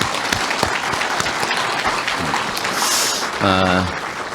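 Audience applause at a workplace staff assembly, in appreciation of the general affairs team, a dense steady wash of clapping throughout, with a brief voiced sound near the end.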